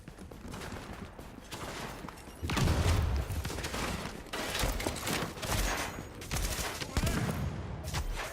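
Gunfire striking a shield in The Division on PC, a dense rattling fusillade of rapid shots and impacts, loud and near, with bursts intensifying after the first few seconds and continuing in irregular volleys.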